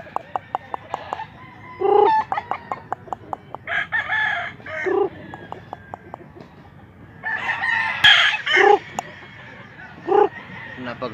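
A rooster crows loudly several times in Mantalungon, Cebu, its calls broken up by sharp clicking sounds and soft clucking in the background.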